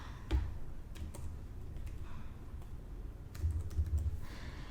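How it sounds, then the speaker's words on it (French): Fingers tap out a date on a computer keyboard in a quiet room, a close run of light, irregular key clicks with a brief faster flurry near the end. "je vais appuyer sur le bouton ajouter comme ça et écrire la date"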